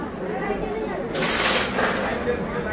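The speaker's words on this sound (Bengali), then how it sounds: "দেখো ট্রেন আসছে" A train pulls into a station platform on a wet morning, a broad rumbling rush swelling partway through and holding steady, mid-distance, with the faint hum of the surroundings beneath it.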